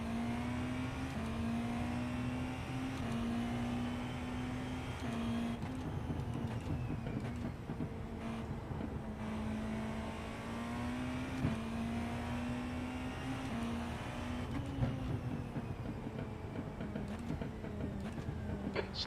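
Race car engines in the iRacing video game at Imola during an IMSA endurance event, a sustained droning engine note shifting pitch with gear changes and speed, continuous and close, with no talk.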